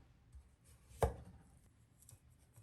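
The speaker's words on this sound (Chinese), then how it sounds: "皮削好后，将芋头的头尾切掉。" A knife cuts off the end of a peeled taro with one sharp, close chop on a board, surrounded by faint quiet handling noise.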